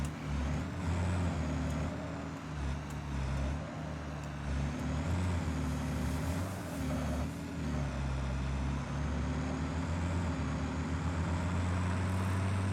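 A truck in the Satisfactory video game rumbles steadily with a low, constant engine drone and a faint high whine, holding a close, even level with no pauses throughout.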